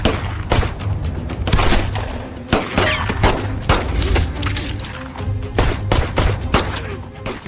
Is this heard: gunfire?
yes